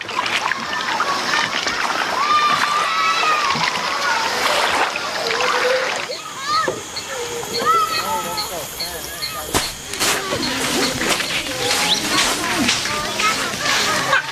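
Kayapo people swimming and splashing in an Amazon river, with steady water splashes and sloshing throughout alongside scattered voices and chatter in the background.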